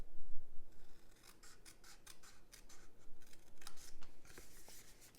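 Scissors cut the corner off a piece of paper for a mini Easter bunny shadow box craft, making a quick run of crisp, close snips one after another.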